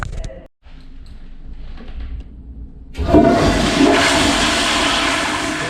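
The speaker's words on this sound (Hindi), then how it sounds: "इसका ये सेंसर है, ये ऑटोमेटिकली फ्लश कर देता है" An automatic sensor toilet in a New York hostel flushes with a loud rushing surge of water that starts abruptly and keeps gushing steadily, following a few seconds of quiet room noise.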